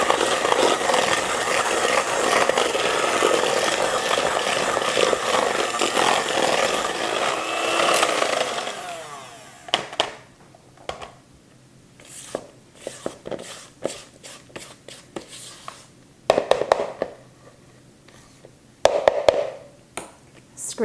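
An electric mixer blends fudge ingredients with heavy whipping cream, whirring loudly and steadily for several seconds, then cutting off to leave scattered knocks and clatters of the bowl.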